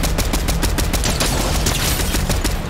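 Heavy gunfire from a giant new gun in a video game, a dense, loud, continuous barrage of rapid shots that runs without a break.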